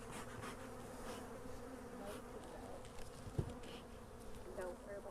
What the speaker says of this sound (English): you can see all the bees getting back in there